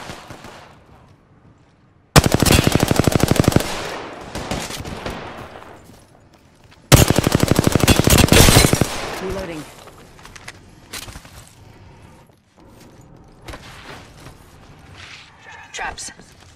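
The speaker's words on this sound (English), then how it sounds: "Getting shot at." Gunfire in an Apex Legends match: two loud bursts of rapid automatic fire, each lasting a second or two, separated by quieter game sounds and a voice talking.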